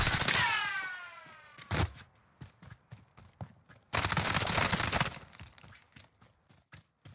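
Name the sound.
Model 680 shotgun firing slug rounds in a video game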